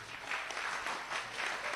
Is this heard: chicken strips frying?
no